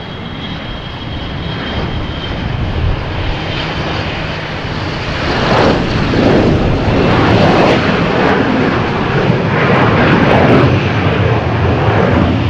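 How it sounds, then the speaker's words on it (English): A Gulfstream jet at Milwaukee Mitchell International Airport roars loudly and continuously, its broad engine rumble swelling as it passes nearby, with no talking over it. "Oh, and there goes the Gulfstream."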